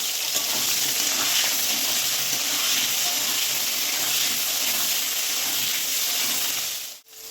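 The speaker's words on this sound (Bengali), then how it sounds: "এবার ওই তেলেই আলু ফুলকপি একসাথে ভেজে নেবো" Potato and cauliflower frying together in hot oil for a festive vegetarian dish, a loud steady hissing sizzle up close that holds evenly before a brief clatter near the end, with no talk.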